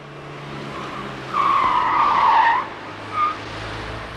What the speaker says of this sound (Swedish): Visst niger nya R19 i undanmanöverbanan med full last